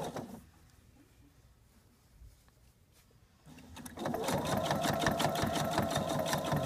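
A sewing machine stitches a quilt setting triangle with the top and batting after a quiet pause, then whirs into a loud, rapid, steady run of needle strokes close by.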